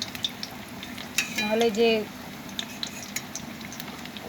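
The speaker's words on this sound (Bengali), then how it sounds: "তো আলুর চপটা কিন্তু হাই ফ্লেমে ভাজা যাবে না" Potato chops coated in gram-flour batter fry gently over moderate heat in a pan, giving a low steady sizzle with a brief burst of spoon-and-pan clatter midway, while a voice speaks quietly.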